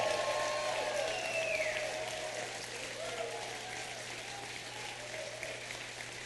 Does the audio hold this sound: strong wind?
no